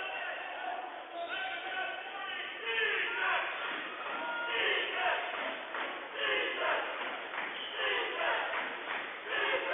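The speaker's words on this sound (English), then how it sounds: "The Neuman crowd chants defense." A high school basketball crowd at Bishop Neumann chants "defense" in a rhythmic, repeated call that fills the gym, loud and sustained, with sneaker squeaks and court noise mixed in.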